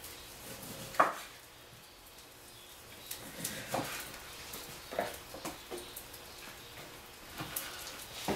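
A knife slicing lime rounds for a caipirinha: a few sparse, sharp cuts against a board, spaced irregularly and fairly quiet, with soft background noise between them.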